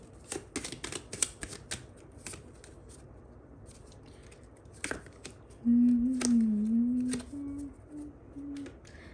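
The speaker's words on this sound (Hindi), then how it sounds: "let me take out some more cards from another deck." Tarot cards are shuffled in quick papery riffles and flicks at close range, with a few scattered bursts, followed by a brief sustained tone and soft handling sounds.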